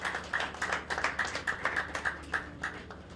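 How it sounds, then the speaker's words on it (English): A small audience claps at a ministerial reception, scattered uneven hand claps rather than a full ovation, fairly distant and thin. "Round of applause"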